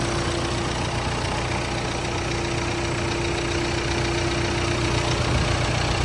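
A Renault Duster engine idles steadily up close, a constant low mechanical hum with a faint even tick, no voices.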